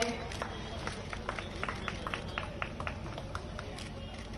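Audience at a public ceremony honouring Rani Avantibai applauds to welcome a guest, a steady wash of clapping from a crowd under a loud, noisy room ambience.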